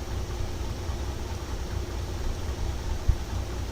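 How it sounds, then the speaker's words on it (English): Low, steady idling engine of the Limes SXS side-by-side in SnowRunner, a continuous mid-low rumble with a brief knock near the end, heard alone without talk. "Good engine sound."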